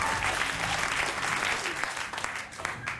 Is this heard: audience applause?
yes